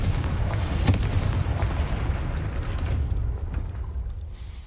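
A Confringo fire spell explodes in the video game Hogwarts Legacy on PS5, making a loud, close boom that rolls into a sustained rumbling roar and slowly fades.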